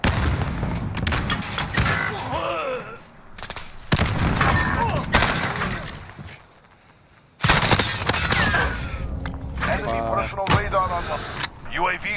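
Gunfire from a UAV in a video game, with loud bursts of shots and booming impacts mixed with mechanical whirring, one brief near-silent gap, and game voices heard throughout.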